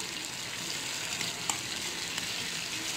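Chicken with yogurt simmering in a pan over low heat gives a steady, soft sizzle and bubbling hiss, with a couple of brief pops and no talk.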